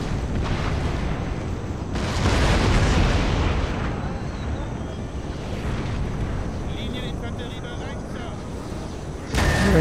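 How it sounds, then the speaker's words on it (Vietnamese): Artillery from a Napoleonic-era battle in the video game Napoleon Total War booms in heavy, rumbling blasts that blend into a continuous roar of cannon fire and battle noise, loud and dense throughout. "pháo nó bắn thế này thì sống làm sao được"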